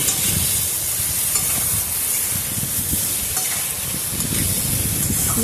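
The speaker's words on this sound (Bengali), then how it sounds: "হলুদ আর সবজি দিয়ে ভালো করে এইভাবে সবজিটার সাথে মিশিয়ে ভালো করে একটু ভাজা ভাজা করে নিতে হবে" Vegetables stir-fried with turmeric and salt in a pan, giving a close, steady sizzle with soft stirring scrapes throughout and no talk.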